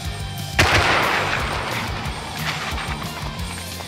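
A single loud gunshot from the video game Rust cracks out, followed by a long reverberant tail and faint movement sounds, with no talking.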